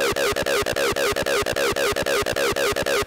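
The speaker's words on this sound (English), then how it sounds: "including some acid lines, and it will sound like this" Acid synth line programmed in Sylenth1 for hardstyle or techno: a fast, steady run of short, buzzy, resonant notes with a squelchy filter that shifts from note to note, loud and close, with no voices.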